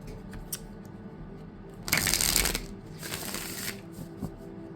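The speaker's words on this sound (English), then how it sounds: "Let's shuffle." A tarot card deck is shuffled, giving two bursts of crisp riffling flutter separated by a short pause, close to the microphone in a quiet room.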